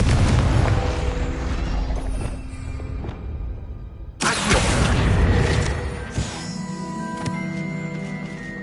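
A Confringo fire spell explodes in Hogwarts Legacy, a loud burst at about four seconds over a rumbling game soundscape with music, followed by crackling debris.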